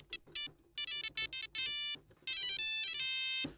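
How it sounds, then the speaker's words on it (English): Nokia 3310 Composer ringtone played from a sampled software instrument for Kontakt: bright, beepy monophonic tones in short bursts, then longer sustained notes, clear and alone. "Nokia 3310 composer for contact."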